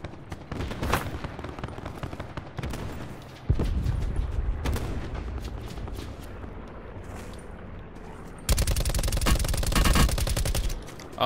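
Rapid automatic gunfire rattles in a shooter video game, with a long sustained burst and a second heavy volley near the end, loud and close, plus a few louder booming shots.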